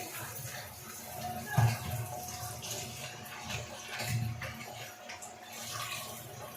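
Spiny gourds and a tomato are washed under running water, a soft, low splashing rinse with a couple of brief stronger swishes, faint and close.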